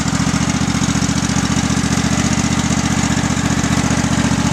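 A Kohler engine on a 2009 tractor runs with a loud, rapid, evenly pulsing chug that holds steady throughout, close and without any talk over it.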